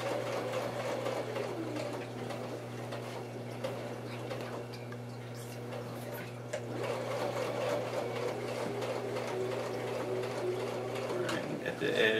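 A sewing machine stitches a handmade handbag with tension set around 4 and tightly spaced stitches, running in a continuous close mechanical whir with a steady tonal drone, while a voice is faintly present underneath.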